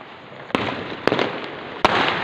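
Diwali firecrackers burst outdoors in three sharp, loud cracks spaced about half a second apart, over a steady crackling hiss of distant fireworks.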